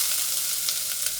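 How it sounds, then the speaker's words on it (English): Chopped onions sizzling in olive oil in a warm pan, a constant close bright hiss with tiny pops and no talk. "Once it's ready to go, we're going to add our chopped onions."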